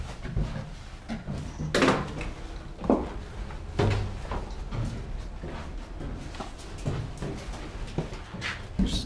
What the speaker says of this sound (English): I'm gonna shut the door on you.